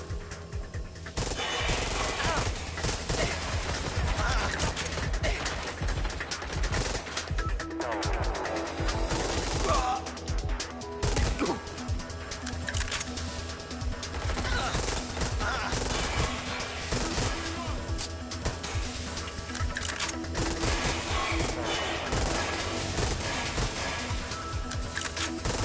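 Gunfire in Watch Dogs: Legion, sustained bursts of shots and clatter running continuously amid a busy game soundscape, fairly close and dense throughout.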